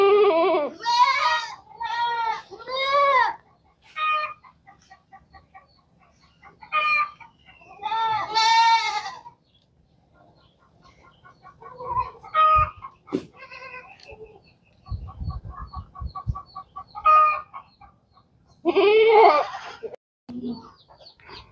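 Chickens cluck and a rooster crows in bursts, with quiet pauses between calls and some faint rustling, fairly close by.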